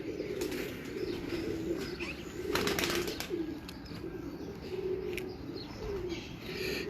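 Pigeons of a famous Lahore breed coo steadily in a low, continuous murmur, with occasional wing flaps and faint chirps rising over the flock's ambient hum.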